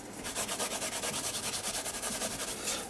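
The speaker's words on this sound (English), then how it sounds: "I'm just going to rub the baby powder over it" Baby powder being rubbed over a mixed media art surface by hand, making a quick run of soft, rhythmic scrubbing strokes, close and fairly quiet, with no talking.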